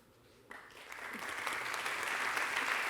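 Applause from an audience at a ceremony inaugurating the 750th anniversary of the Consolat de Mar, starting abruptly and swelling into steady, dense clapping from a large crowd.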